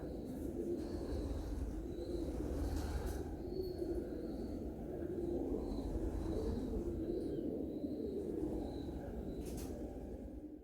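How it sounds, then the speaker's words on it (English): Pigeons or doves coo in soft repeated low calls from inside an abandoned building, a constant chorus under a steady hum of background noise. "can hear all the pigeons or doves."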